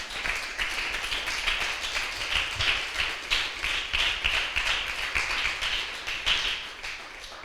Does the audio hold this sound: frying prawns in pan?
no